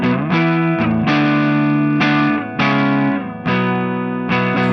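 Electric guitar with built-in multi-effects modelling, set to a signature-style tone, played as sustained distorted chords with chorus shimmer that change every second or so, loud and alone with no talk.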